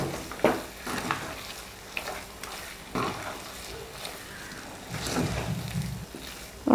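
Rava kesari with ghee, fried cashews and raisins being mixed in a pan, heard as repeated soft scraping and thick stirring strokes with a low background sizzle, fairly close and without talk.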